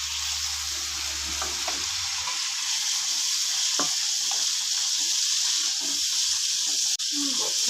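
A spice masala for a rohu fish and ridge gourd curry sautés in a pan with a loud, constant sizzle and hiss, while occasional scraping clinks mark the stirring.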